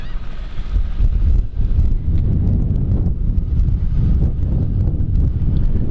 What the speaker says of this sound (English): It's extremely windy out here.